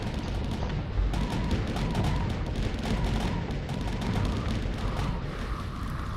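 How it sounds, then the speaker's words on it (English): Point defense weapons firing in a StarSector space battle against fighters, a dense continuous barrage of rapid shots and booming impacts, loud and unbroken throughout. "Oh my god, point defense weapons."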